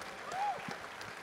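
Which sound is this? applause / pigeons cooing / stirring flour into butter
applause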